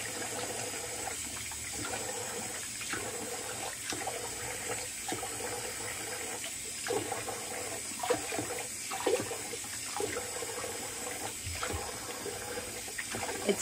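A bathroom tap runs continuously during a wet shave with an Edwin Jagger DE89 razor, a steady hissing stream close by, broken by faint periodic splashes as a hand or razor passes through the flow.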